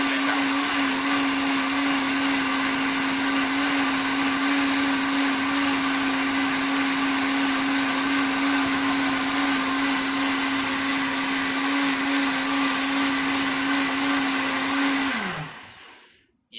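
A Silver Crest blender whirs loudly and steadily as it blends a smoothie, holding an even motor hum for about fifteen seconds before spinning down and stopping.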